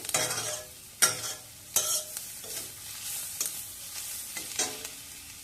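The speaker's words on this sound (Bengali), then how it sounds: "আঁচটা একটু নরম করে নেব হালকা আঁচে পেঁয়াজটা একটু নরম করে নেব তেল কম দিয়েছি" Onions soften in a little oil over low heat for bhindi masala, with a soft continuous sizzle under repeated spatula scrapes and knocks against the pan, close by, no talking.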